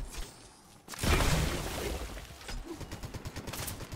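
Sustained burst of gunfire in a shooter video game, loud and dense after a brief quieter opening, then continuing as rapid repeated shots.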